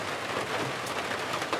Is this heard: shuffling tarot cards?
no